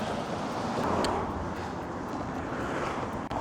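Strong wind buffets the microphone in thick San Francisco fog, a constant loud roaring rumble with no break.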